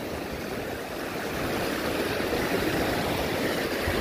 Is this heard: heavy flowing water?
yes